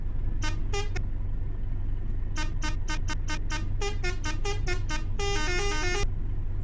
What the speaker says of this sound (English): No standard horn, only air horn.